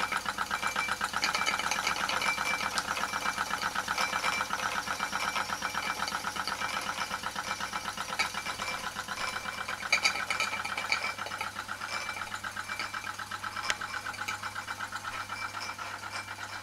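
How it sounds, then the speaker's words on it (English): Bowman E101 model steam engine driving a toy sewing machine, a rapid, even mechanical chatter and ticking that runs continuously at a steady pace, close and moderately loud with no talking. "I've actually done a similar experiment myself, but only with a toy sewing machine."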